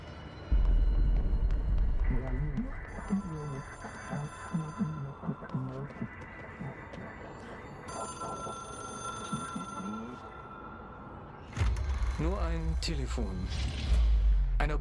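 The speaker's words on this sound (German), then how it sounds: "Telefon!" An old telephone that serves as an otherworldly hotline in the game Control rings in repeated bursts. Voices talk in between, and a heavier rumbling passage follows near the end.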